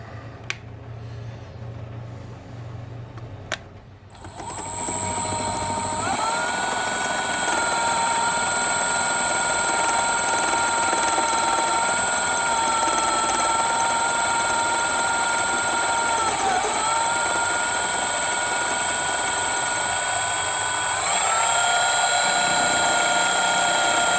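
A Sieg mini mill spins up and cuts a lathe chuck key, holding a steady high-pitched whine with a low motor hum beneath and slight pitch dips as the cutter bites, after a few quiet clicks before startup.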